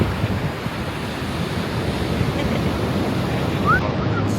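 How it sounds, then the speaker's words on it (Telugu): Ocean waves washing onto a beach near Annavaram, a steady broadband roar of surf mixed with wind buffeting the microphone, continuous and close, no voices. "నాతో పాటు మీరు కూడా ఆ బీచ్ సౌండ్ వినండి."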